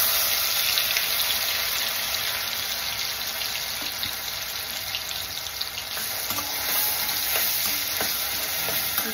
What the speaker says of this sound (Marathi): कढईत आपण 2 चमचे तेल अजून टाकायचं आहे। कांदा आपल्याला परतून घ्यायचा आहे।